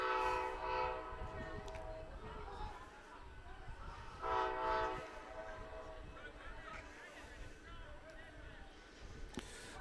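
A train passes near a soccer field during an evening FC Milwaukee Torrent vs Southern Indiana Guardians match, rumbling steadily with repeated horn blasts, while people talk.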